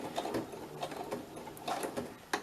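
A sewing machine stitches through scrap fabric word embellishments using its standard needle, a quiet rapid ticking run of stitches with a few sharper clicks, close by and without talk.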